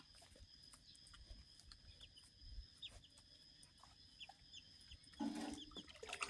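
Free-ranging chickens at a rural home, heard as faint, scattered clucks and short calls over low background rumble, growing a little louder near the end.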